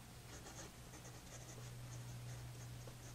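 A Noodler's Ahab flex nib fountain pen writing on paper, faint soft scratchy strokes in a quiet room, with a steady low hum behind.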